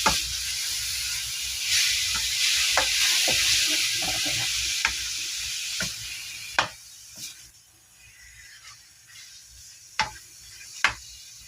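Ground pork stirs and fries in a pan, a loud steady sizzle with intermittent sharp clacks of a utensil scraping and tapping the pan, the hiss easing slightly toward the end.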